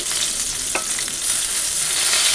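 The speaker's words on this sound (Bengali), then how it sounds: "মাছ ভাজাও মানে ইসে হয়ে যাচ্ছে" Fish fries in a pan with a loud, continuous crackling sizzle close by, steady throughout with no voices.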